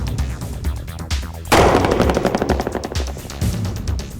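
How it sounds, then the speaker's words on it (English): Rapid handgun shots from a 9mm firing 115-grain bullets into armored car window glass, a dense loud volley with sharp repeated cracks and impacts, most intense after a sudden burst partway through, with no talking. "The bullets are being fired from a 9mm handgun."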